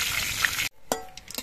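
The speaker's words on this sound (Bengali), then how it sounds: "এবার এই তেলের মধ্যে দিচ্ছি 2টো তেজপাতা, 2টো শুকনো লঙ্কা" Bay leaves, dried red chillies and whole cumin hit hot oil with a loud burst of sizzling that cuts off abruptly, followed by a few sharp crackles and pops.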